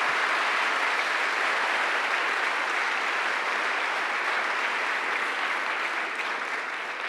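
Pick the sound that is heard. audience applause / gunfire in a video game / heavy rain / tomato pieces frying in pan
audience applause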